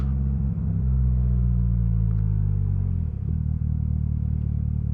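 A 2022 Polaris Slingshot SL rumbles along at low speed and slows to a stop, its steady engine drone shifting pitch as it pulls up, with no talk over it.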